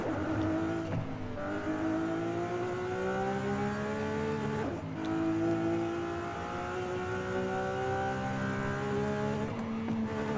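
A Lamborghini Aventador SVJ engine in Forza Horizon 5 roars through repeated upshifts, pitch climbing then dropping with each gear change, loud and continuous with no talking.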